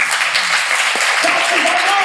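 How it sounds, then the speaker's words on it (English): A church congregation claps hands together in sustained, dense applause filling the room, with a voice speaking over the clapping. "Clap your hands."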